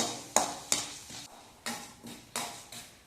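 Tomato chutney ingredients being stirred in a pan, with a spoon scraping and clinking against the metal in several sharp strokes over a faint sizzle, close and fairly quiet.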